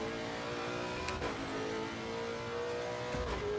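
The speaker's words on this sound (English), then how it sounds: "Downhill now, let's brake at the 50 again for Aquaminarali. Down to second as we hit the right hand curve." A race car engine in a sim racing video game at Imola drones loudly and continuously with small pitch shifts as it brakes downhill and changes gear, with no talking.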